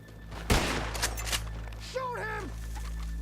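Gunfire in the video game Red Dead Redemption 2 opens with one loud, sharp shot, followed by a few fainter pops. Voices speak around it, and a brief whistling tone sounds near the end.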